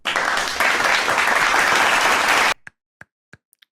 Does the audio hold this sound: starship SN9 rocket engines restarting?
no